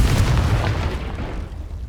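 A Confringo spell blast in Hogwarts Legacy lands as a heavy, close boom that rolls off into a fading rumble.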